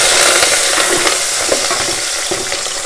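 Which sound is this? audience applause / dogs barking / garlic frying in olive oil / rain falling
garlic frying in olive oil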